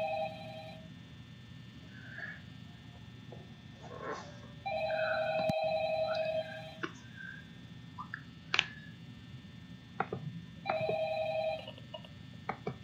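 A telephone rings in the horror video game Five Nights at Harry's, sounding as repeated electronic ring bursts with pauses between them, plus scattered clicks and short tones, all fairly faint with no talking.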